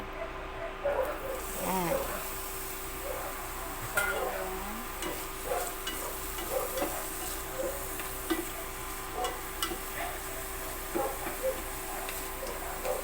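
Garlic, onion and long chili frying in a little oil, with a steady close sizzle and scattered stirring clicks and scrapes; a voice speaks briefly over it.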